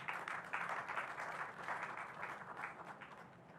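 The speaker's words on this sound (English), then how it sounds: "Please, a round of applause for her." Audience applause for a speaker invited to the podium at a statistics event in Nigeria, a soft steady patter of many hands clapping at moderate distance, fading slightly at the end.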